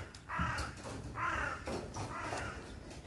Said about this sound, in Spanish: qué de palomas